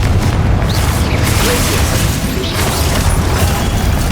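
A loud Confringo fire spell from Hogwarts Legacy blasts in a booming explosion that rolls on continuously with dense mechanical crashing and no voice over it.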